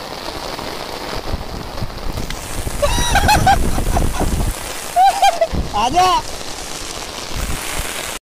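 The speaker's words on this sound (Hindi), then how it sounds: "इतनी तेज बरसात हो रही है ना" Heavy monsoon-style rain pounds steadily on a surface in a dense roar, with a voice shouting and splashing heard over the downpour.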